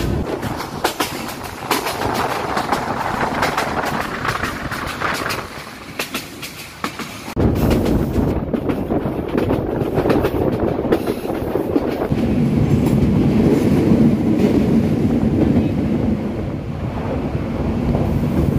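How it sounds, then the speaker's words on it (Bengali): A passenger train rolls through jungle near Sreemangal, Sylhet, with a steady rumble and rattle of carriages and strong wind buffeting the microphone, growing louder and heavier partway through. "জঙ্গলের ভিতরে দিয়া ট্রেন যার"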